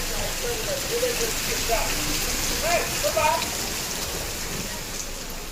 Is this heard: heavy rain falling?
yes